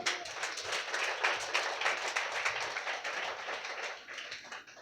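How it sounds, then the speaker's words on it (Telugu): A church congregation claps loudly and steadily in a rapid, continuous patter that fills the room, carrying on for several seconds with barely any voice over it. "గట్టిగా కొట్టు చప్పట్లు."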